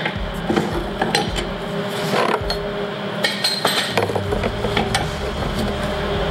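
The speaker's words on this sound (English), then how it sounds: "pop the clamps." Metal clamps are knocked loose and pulled off a freshly welded Ford 10.5 one-ton axle during a truck swap, giving a string of close metallic clinks, clanks and ratcheting knocks over a workshop background hum.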